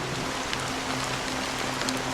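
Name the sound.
rain falling in the video game Honkai: Star Rail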